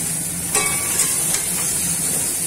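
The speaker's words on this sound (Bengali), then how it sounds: "এবার একটা পেঁয়াজ কুচি করে ফোড়ন দিলাম" Chopped onion frying in hot oil for a pomfret fish curry, a steady bright sizzle and hiss with a few louder spits, close and constant throughout.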